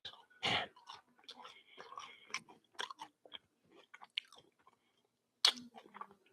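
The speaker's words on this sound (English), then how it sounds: "now let us just have a bite. Look at that crunchiness." Close crunchy bites into a warm ube pie, followed by moist chewing, with brief broadband crackles and mouth noises in a quiet room and a second sharp bite near the end.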